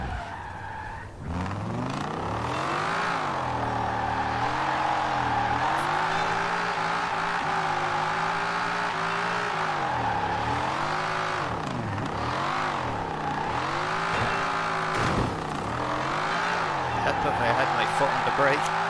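A 1968 Ford Mustang GT drifts in Forza Horizon 4, its engine holding high revs that wobble up and down while tyres squeal continuously through long slides, loud and close for the whole stretch.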